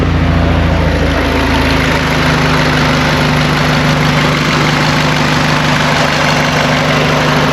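An overheated car engine idles steadily and close, a constant low droning rumble with a broad whooshing hiss from the radiator over it, no voices.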